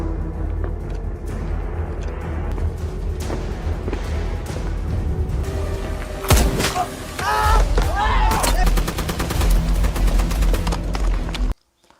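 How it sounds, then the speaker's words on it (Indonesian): Gunfire during a war-film gunfight between Indian and Pakistani troops, dense rattling volleys over a constant rumbling battle bed, sharper cracks clustering near the end before an abrupt cut, with a voice in the mix. "Baku tembak pun terus terjadi."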